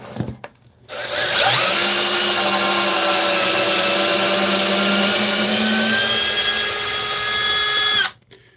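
A DeWalt 12-volt cordless drill runs in reverse with a loud, steady whine after a brief start, holding an even pitch for several seconds before it cuts off abruptly. No one speaks over it.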